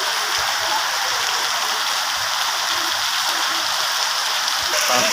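Rain pouring heavily over Dhaka city, a steady, close wash of drops hitting surfaces with a faint trickle of running water underneath.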